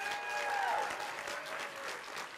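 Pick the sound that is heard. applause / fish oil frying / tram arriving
applause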